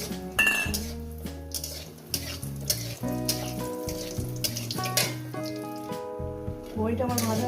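Lentil dumplings fry in oil in a kadai, a soft sizzle under frequent clinks and scrapes of a metal utensil against the pan, with a tonal hum running beneath.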